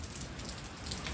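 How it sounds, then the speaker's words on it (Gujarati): Heavy rain pours down at night in Chhara village, a dense, even hiss of drops on surfaces, continuous and close without any voices. "વરસાદ ચાલુ જ છે"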